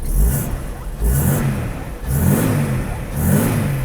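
A Mercedes-Benz 230E S124 wagon engine runs near idle after repair of a faulty fuel distributor, with the air conditioning on: a close, steady low rumble that swells roughly once a second, with no talk.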